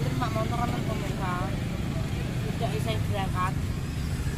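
A motorcycle engine rumbles steadily close by in low, continuous tones, while someone talks over it throughout.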